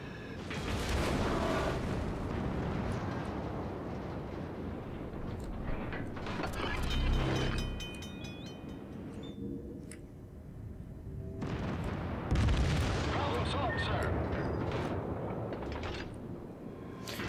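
Naval guns fire in the World of Warships game as a string of heavy booms and rumbling blasts, loud and close, with mechanical clanks and crackling between them. No one speaks.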